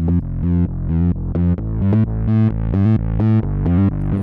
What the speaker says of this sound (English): we're listening to the drums with parallel compression and the bass with parallel distortion